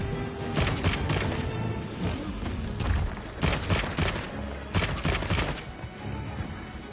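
A heavy bowgun fires in the Monster Hunter Wilds beta, with booming shots repeating in quick bursts over continuous game noise and no talking.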